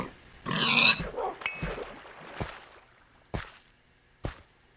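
A pig in the Minecraft video game grunts with short game sound effects, starting with a loud burst and then a few sharp, clipped blips spaced about a second apart. No one speaks.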